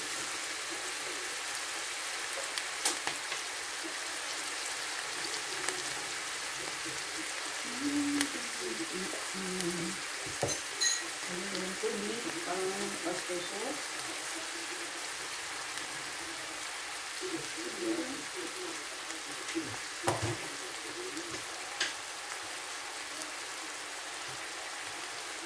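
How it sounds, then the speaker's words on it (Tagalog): Beef frying in splattering oil in a home kitchen, a steady dense sizzle like rain running throughout, with scattered pops and low stirring knocks, while a voice talks intermittently over it. "At mapisik ang ating mantika."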